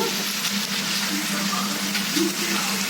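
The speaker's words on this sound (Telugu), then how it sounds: "నాకు కొంచెం గ్రేవీ కావాలి కాబట్టి వాటర్ పోసుకుంటున్నాను" Water poured into a pot of chicken curry cooked without spice powders makes a steady, close, loud rush of pouring with hissing sizzle, continuing without a break.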